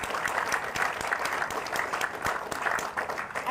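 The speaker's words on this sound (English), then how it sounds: "I think they deserve another round of applause." An audience applauds the mothers at a Texas border wall construction kick-off event, with steady sustained clapping from many hands, moderately loud throughout.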